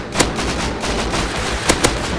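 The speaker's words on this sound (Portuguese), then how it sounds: "Ai, tomei um monte de tiro." Several sharp gunshots crack out amid dense, continuous noise, with a couple of distinct louder shots standing out, during a firefight in the video game Rust.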